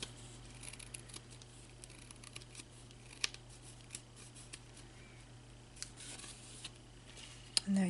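Scissors trim a decoration on a shabby chic frame in a quiet room, with sparse, faint snips and small rustles and a sharper click near the end.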